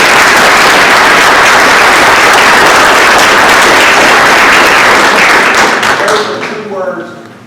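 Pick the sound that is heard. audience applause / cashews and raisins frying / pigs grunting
audience applause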